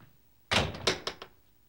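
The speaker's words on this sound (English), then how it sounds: "Somebody shut the door." A door is shut with one loud thud, followed by two or three lighter knocks and rattles as it settles, close by with no one talking.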